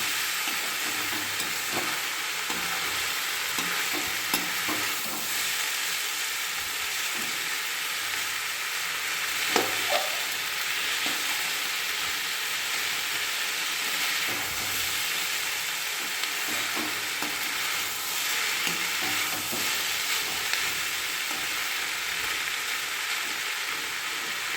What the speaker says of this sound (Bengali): আদা টমেটোটাই সবজির সঙ্গে ভালো করে ভেজে নেব